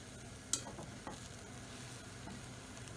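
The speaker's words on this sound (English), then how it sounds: "fry them for about 2 or 3 minutes on each side until they're nice and brown and soft" Eggplant slices fry in a pan, giving a low, steady sizzle. A sharp utensil scrape or tap comes early, followed by a softer knock, and no voices are heard.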